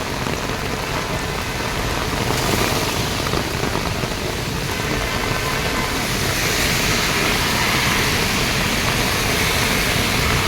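Heavy monsoon rain pours on a flooded Delhi street, a loud, dense, continuous hiss of drops hitting the road and surfaces, steady throughout with no talk.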